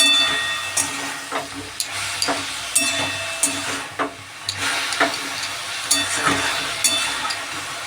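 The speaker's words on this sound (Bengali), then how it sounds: "আমার শাক ভাজা কমপ্লিট" Leafy greens frying in a pan with a steady sizzle, broken by repeated scraping and stirring knocks of a spatula.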